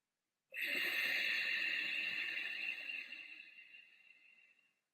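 Ujjayi (victorious breath) pranayama breathing: a single long, hissing, ocean-like breath made with a constricted throat, starting abruptly and fading slowly over several seconds, close and alone with no talk.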